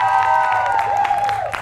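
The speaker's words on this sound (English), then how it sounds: "Clap if you want Jermey to stay." Theater crowd at an improv performance breaks into continuous clapping and cheering, a thick wash of hand claps with high yells and whoops scattered through, loud and close for the whole stretch.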